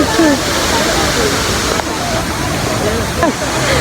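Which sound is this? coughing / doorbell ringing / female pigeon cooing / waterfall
waterfall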